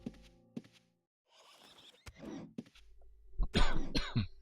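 A man coughs several times at close range, with a throat-clearing rasp and a burst of harsher coughs toward the end, between soft thumps in a quiet room.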